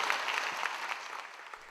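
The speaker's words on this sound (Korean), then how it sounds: "다시 한번 박수로 받았으면 좋겠습니다" Brief burst of applause from delegates standing at a church denomination's extraordinary general assembly, a dense, even patter of many hands at moderate distance that tapers slightly by the end.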